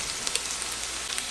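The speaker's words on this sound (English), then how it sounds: "We're going to go ahead and add in our sausages" Sausages sizzling in a pot with tender onions for a crockpot Spanish paella, a steady dense crackle of frying with small scattered pops and no voices.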